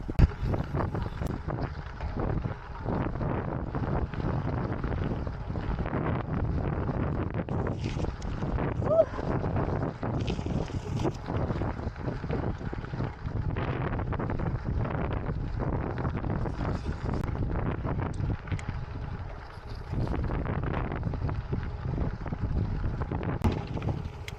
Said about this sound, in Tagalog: Grabe lakas sa hangin.